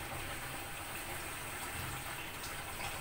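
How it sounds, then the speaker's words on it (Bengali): A green banana curry with plenty of liquid comes to a boil in a curry cooker, giving a faint, continuous bubbling hiss with no talk. "তরকারিতে বলক উঠে গেছে"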